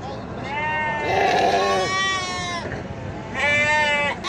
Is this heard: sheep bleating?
yes